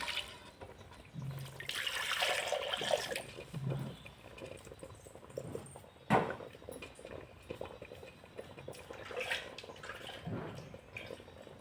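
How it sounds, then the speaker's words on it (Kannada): Water goes into a village-style chicken gravy in a pan, a soft, steady pouring and splashing that runs for several seconds with a few clinks, fairly quiet and close, and no speech. "ಗ್ರೇವಿಗೆ ಎಷ್ಟು ನೀರು ಬೇಕು ನೋಡಿಕೊಂಡು ಹಾಕೊಳ್ಳೋಣ."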